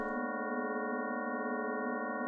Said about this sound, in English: You'll notice we've got different sine waves in the left and the right